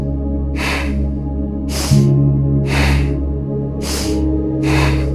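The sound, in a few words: Bhastrika bellows breath, forceful yoga breathing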